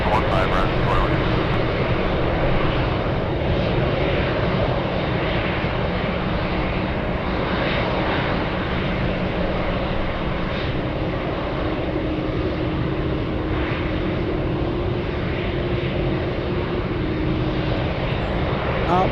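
A Boeing 747 Dreamlifter at Anchorage gives off a steady, loud engine rumble that holds throughout without breaks.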